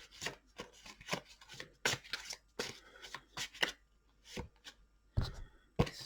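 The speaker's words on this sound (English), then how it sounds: "I'm going to shuffle the cards" Cards are shuffled close up in a series of quick riffling and rubbing bursts, irregular in rhythm, quiet and with no talking.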